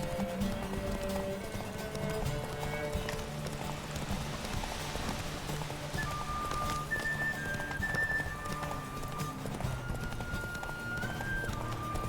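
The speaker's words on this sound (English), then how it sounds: "Was it this game or some other game where the horse knocks you off if you keep on riding too much?" Horse hooves clip-clop steadily while riding in The Witcher 3, a quick even gallop that continues throughout under game music and ambient tones, with no one speaking.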